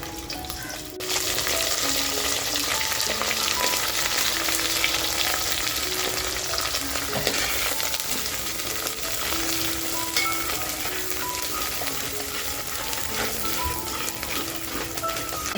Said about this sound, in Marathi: तर बघा तेल छान तापलंय. जो मसाला आपण पाट्यावर वाटून घेतलाय तो टाकूया.